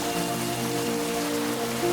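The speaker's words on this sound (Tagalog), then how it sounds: "Bilisan mo, ang lakas ng ulan" Heavy rain pouring down in a dense, constant roar of drops striking surfaces, loud and close, with no let-up across two seconds and no voices.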